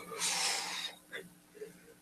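A person lets out a long breathy yawn, followed by a couple of softer exhales and faint vocal sounds, close to the listener in a quiet indoor setting.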